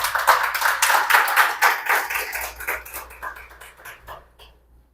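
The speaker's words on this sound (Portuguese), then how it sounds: "ao qual eu peço uma salva de palmas" Audience applause at an inauguration ceremony for the new board of a cultural institute, a dense burst of many hands clapping that starts loud and thins out, fading to scattered claps and then silence.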